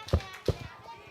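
Two quick sharp claps from children during an elementary Sunday worship service in a church, close and brief, with soft voices murmuring afterward.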